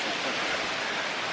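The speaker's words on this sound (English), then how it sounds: "I hear the waterfall." A jungle waterfall near Paraty, Brazil, roars as a dense, continuous wash of falling water, steady and fairly loud with no voices.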